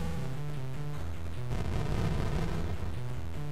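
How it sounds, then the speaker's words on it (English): Continuous rumbling blasts from a drone combat video game, a dense wash of booming noise over a droning, tonal game soundtrack that swells louder midway and carries on without pause. "Apparently we're in constant explosion."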